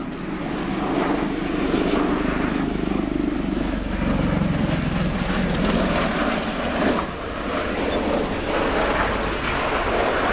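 A Bell-Boeing CV-22B Osprey tiltrotor of the US Air Force flies at the RIAT 2017 airshow, its loud, steady rotor and engine roar swelling and easing slightly throughout with no speech over it.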